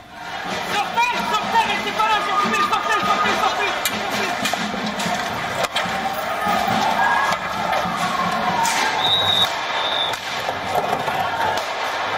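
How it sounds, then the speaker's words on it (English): Protest crowd scuffling with police in the streets of Nantes during a march against Marine Le Pen, a busy roar of voices, shouts and idling engines, with a reporter talking over it. "Scuffles broke out between the police and the crowd in the streets."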